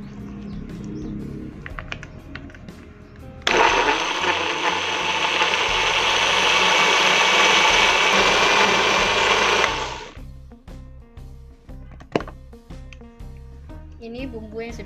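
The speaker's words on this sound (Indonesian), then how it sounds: "Kita tambahkan sedikit air untuk memblender." A blender grinding spice paste with a little water roars loudly for several seconds with a steady high grinding whir, starting and stopping abruptly, with kitchen clatter and talk before and after.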